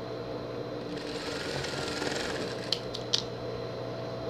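Sewing machine stitching around a fabric bow for a pet outfit, a steady continuous mechanical whir with faint clicks near the end.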